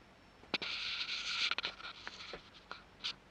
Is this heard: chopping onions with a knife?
no